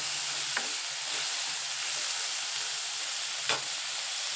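Finely chopped tomato and onion fry in a pan with a loud, steady hissing sizzle, broken twice by sharp knocks of a stirring utensil, with no talk.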